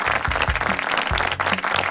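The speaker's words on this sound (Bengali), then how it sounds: "জোরে একটি করতালি হয়ে যাক তাহলে।" An audience on a reality talent show gives a loud round of clapping, a dense steady patter with a few low thumps mixed in, and no talk over it.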